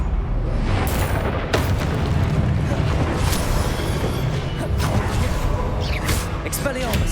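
Confringo fire spell explosions in the video game Hogwarts Legacy during a trial battle against statues: a continuous loud, dense roar of blasts and crashes with sharp bursts throughout, a voice casting spells over the din.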